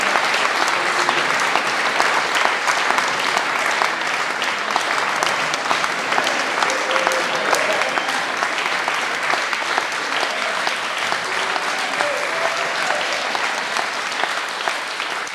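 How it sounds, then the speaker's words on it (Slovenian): A concert audience at a male choir's traditional summer concert in Domžale applauds for a birthday. The clapping is dense and loud, continuous for about fifteen seconds, with no talking over it. "En aplavz za Jureta"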